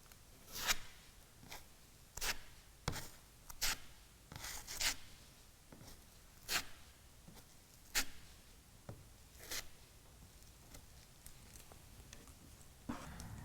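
A spreader drags filler across a surface in repeated scraping strokes, each a short rasping swipe, at an irregular rhythm, close and fairly quiet, with no talking.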